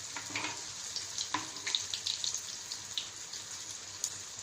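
Cabbage manchurian balls fry slowly in oil over low heat, giving a steady fine sizzle with scattered crackles and pops, close and continuous with no talk.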